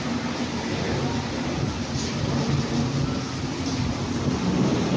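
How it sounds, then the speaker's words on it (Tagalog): Heavy rain pours in a dense, continuous hiss with a low rumble underneath, loud and unbroken throughout. "Malakas yung ulan."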